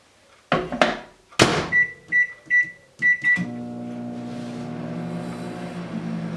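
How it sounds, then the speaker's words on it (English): Microwave oven melting chocolate: a door shuts, keypad beeps sound several times, then a steady low hum sets in as the oven runs, close and fairly quiet. "we're gonna melt this in the microwave"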